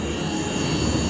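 The motors of an iFlight Nazgul5 XL5 FPV drone spin during a direction test, a steady close whining hum with a high tonal edge and a low rumble underneath, lasting about a second.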